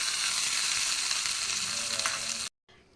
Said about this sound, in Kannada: ಚಟ್ನಿಗೆ ಒಗ್ಗರಣೆ ಹಾಕೋಣ